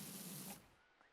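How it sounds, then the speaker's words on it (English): A pressure washer sprays hard in the video game Powerwash Simulator 2, a loud hiss that stops abruptly halfway, leaving quiet with a faint blip after. "The spray is pretty loud."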